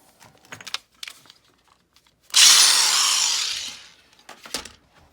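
A power drill with a 9/64-inch bit bites into wood in one loud burst of about two seconds, with quiet clicks and tapping before and after.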